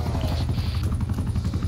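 A chopper gunner helicopter in Call of Duty Zombies gives off a loud, steady rotor thumping with a low droning beat that fills the whole moment, close and continuous.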